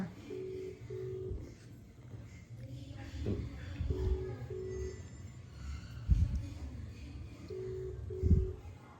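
Ringback tones from a phone call, paired short beeps repeating three times at a steady interval, fairly faint, with rustling and handling thumps around them.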